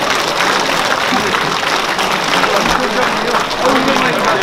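Steady, loud applause from an audience at a formal Korean assembly, a dense continuous clatter of many hands clapping for the committee chairman, with no pauses.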